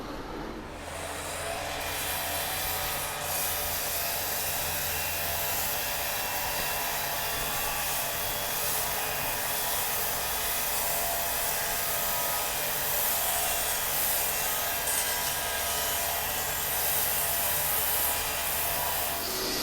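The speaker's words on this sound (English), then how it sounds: "we're using 120 grit sandpaper" Mesquite wood spinning on a lathe while being sanded with 120-grit sandpaper, a steady whirring motor drone with a constant abrasive hiss, close and even throughout with no talking.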